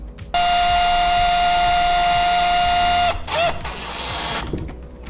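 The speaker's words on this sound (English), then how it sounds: "now finally we can screw those 2 parts to the rest of the gearbox with" Power tool driving M4 bolts into 3D printed gearbox parts, a steady high motor whine for about three seconds, then a short second burst with a pitch sweep before fading.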